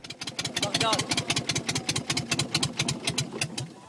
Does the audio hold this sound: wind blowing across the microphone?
no